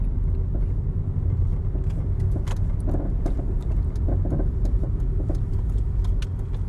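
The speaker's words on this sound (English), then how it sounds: "I'm gonna just park my car real quick." A car being parked: a steady low engine rumble and road noise with scattered light clicks and rattles throughout, close and continuous, no talk.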